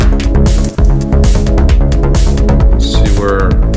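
Clap sample dropped into an electronic trance track, with sharp percussive hits repeating in a tight rhythm over a dense, loud synth and drum loop.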